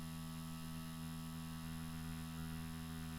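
A tattoo machine runs steadily while its needle tapers a line into skin, giving a quiet, even electric hum with no voices.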